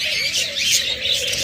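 Caged budgerigars at a bird sale, including albino and lutino pairs, chatter and chirp together in a loud, busy, continuous twittering close by, with no talk.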